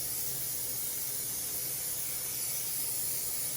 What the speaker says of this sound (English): Then I'm just gonna take my 13x9 baking dish and grease it with some cooking spray.